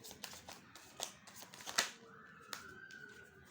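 Tarot cards are shuffled by hand up close, a quiet series of riffling flicks and soft card slaps over a few seconds, ending in a faint slide.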